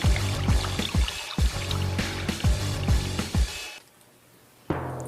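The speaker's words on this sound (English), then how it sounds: "Now fill it up with water." Water pours and splashes steadily into a container with gurgling, rhythmic glugs, then stops abruptly before a brief final splash.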